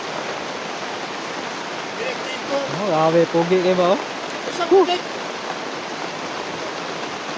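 Steady rain and running water hiss continuously outdoors, with someone talking briefly over it in the middle.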